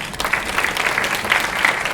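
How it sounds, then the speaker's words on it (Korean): An audience at a Korean AI software technology forum applauds to welcome a professor to the podium, brief dense clapping, steady and moderately loud. "네, 박수로 맞으시기 바랍니다."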